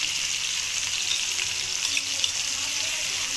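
Tomatoes with salt cooking in a pan for an egg curry, giving a steady, loud hiss of sizzling that runs unbroken from start to finish with no voices.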